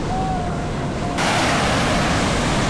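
Strong ocean waves crash and roar continuously at Puerto Galera beach, a loud, close, broadband surge that swells to a heavier rush midway, with wind buffeting the microphone.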